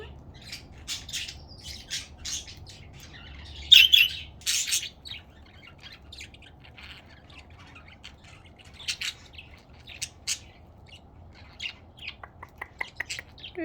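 Pet budgies chirping and squawking at breakfast time indoors, scattered bright tweets and sharp calls in irregular bursts, one louder squawk cluster early on, over a low steady room hum.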